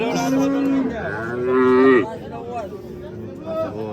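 A cow moos several times at a livestock market, long tonal calls that rise and hold close by, with the general murmur of the market underneath.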